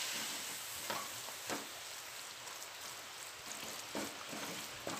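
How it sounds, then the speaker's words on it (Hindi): Finely chopped tomatoes sizzling and frying in a pan, a steady soft crackle broken by a few scraping stirs of a spoon, no talk. "अच्छे से मिक्स कर लेंगे"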